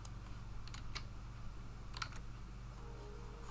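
Someone types on a computer keyboard in quiet bursts of light clicks with brief pauses between, close but soft over a steady low electrical hum.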